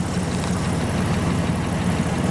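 A 1987 Buick Grand National engine idles steadily and close, a continuous low throbbing rumble with no talking over it.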